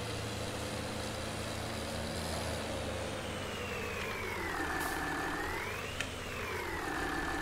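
A tractor fitted with wide tyres in the farming game Farming Simulator 19 drives along with a steady, continuous engine drone that rises and falls gently in pitch, heard alone without talking.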